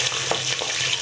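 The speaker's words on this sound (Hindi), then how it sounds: "अब हम इसमें गोश्त डाल देंगे।" Meat hits hot oil over golden-browned onions for a beetroot and meat curry, giving a steady close sizzle with some stirring scrapes and no voices.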